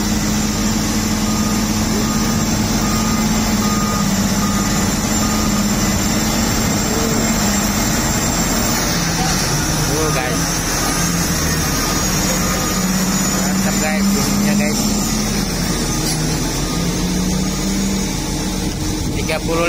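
A worn-out, run-down bulldozer engine roars continuously, a loud close mechanical drone with a wavering low whine and rattling texture that stays steady throughout, without pauses, with no one speaking over it.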